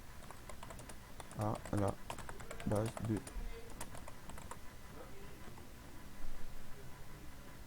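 Steady keystrokes on a computer keyboard as VB.Net code is typed, with clicks and clusters of taps running throughout while someone speaks French intermittently over them.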